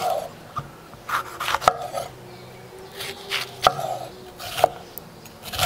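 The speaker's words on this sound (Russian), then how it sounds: "Перец нарезаю вот таким вот образом." Knife chopping a sweet bell pepper on a board, crisp irregular cuts close by, with faint scraping between strokes.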